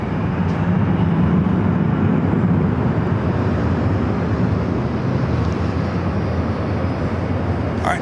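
Delta airliner taking off from runway 24 left at LAX, a loud sustained jet engine roar that stays strong and steady throughout.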